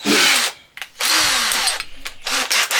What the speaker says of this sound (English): So to cut this I just use the old handy dandy jigsaw.